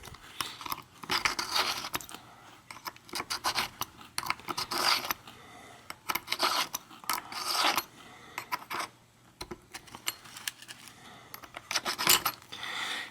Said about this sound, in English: I'm going to hold this part in the middle here so it doesn't turn, and then unscrew this ring here